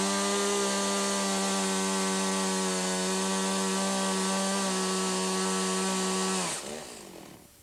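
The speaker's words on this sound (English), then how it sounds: "So I start my chainsaw and I put full speed on the chain" A vintage Stihl chainsaw cutting firewood roars at full throttle with a steady, loud whine for several seconds, then abruptly drops off as the engine winds down.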